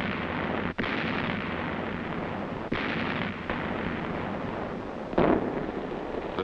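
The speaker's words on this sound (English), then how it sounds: "It was here that they called for the direct support of naval gunfire." Naval gunfire supporting troops on Okinawa: a steady low rumble of distant bombardment with a few sharper thuds and one louder blast near the end, heard in old archival film sound.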